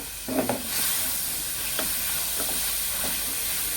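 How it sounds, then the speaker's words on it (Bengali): A spoon stirs ripe mango pieces into a hot condensed-milk halwa in a pan, giving a few scraping strokes over a steady sizzle and hiss, heard close with no talking. "আম দেওয়ার পর এবার ভালো করে নাড়তে হবে"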